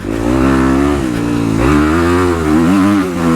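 Dirt bike engine on a motocross track, loud and close, revving hard with pitch climbing and dropping through gear shifts and a brief dip as the throttle is released, no voices over it.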